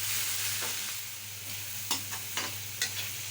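Carrots stir-fried in a pan hiss with a steady broad sizzle, broken by a few sharp utensil scrapes and knocks toward the end as the vegetables are tossed.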